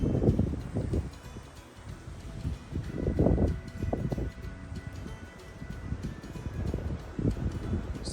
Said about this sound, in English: So pretty windy